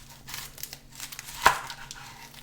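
The papery outer skin of an onion is peeled off with soft, close crinkling and one sharp tearing crackle partway through.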